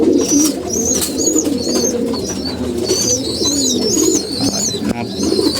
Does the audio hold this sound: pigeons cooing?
yes